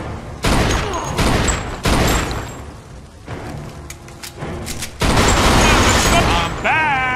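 Gunfire in the Mafia II video game comes in loud repeated bursts and volleys separated by short pauses, with a voice talking in between.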